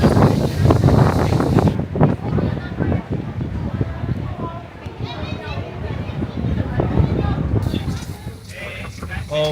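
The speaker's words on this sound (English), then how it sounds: "So windy here." Loud gusty wind roars and buffets the microphone continuously at a high spot in Japan, with a faint rushing of open air behind it.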